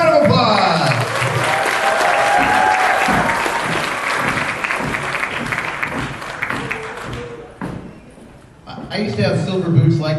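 A costume-contest audience at a Doctor Who fan convention gives a loud, sustained round of applause for an entrant, thinning briefly near the end before flaring again with cheers and voices.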